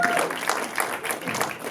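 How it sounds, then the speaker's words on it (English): Audience applause for a film's cast and crew at a film festival Q&A, a steady wash of clapping from a seated crowd, moderately loud and continuous for a short stretch. "can we have a large round of applause for the entire cast and crew"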